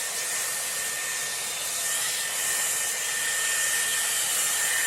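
A Dyson Airwrap with a round brush attachment dries hair at the roots, giving a steady, loud, close airy whoosh of blowing air that holds constant and does not stop.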